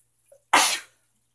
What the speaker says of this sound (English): Hang on, I have to sneeze.